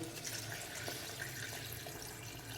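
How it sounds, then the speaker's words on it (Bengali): Mutton stock poured into a pot of mutton masala, a soft continuous splashing pour, fairly faint and steady. "এবার এতে আমি জল অ্যাড করব"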